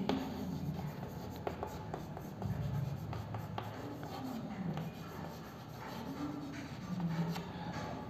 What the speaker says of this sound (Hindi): नेशनल ट्रेवल एजेंसी के मैनेजर को लेटर लिखेंगे